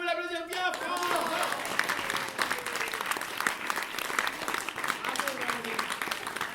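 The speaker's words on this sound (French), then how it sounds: "Jean-Émeric, on veut l'applaudir bien fort" A theatre audience applauds a volunteer with dense, steady clapping throughout, following a brief voice at the start.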